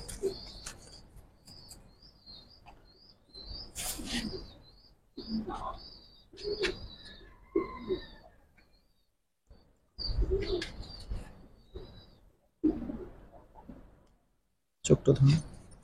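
Giribaz pigeons in a loft, molting, give soft coos and short chirps with occasional wing flaps, mostly beneath steady nearby conversation.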